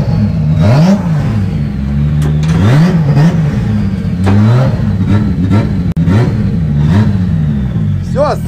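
A drift car at the first round of the 2021 RDS GP revs hard and close, its engine note repeatedly climbing and dropping in sharp, uneven bursts, with a voice talking over it.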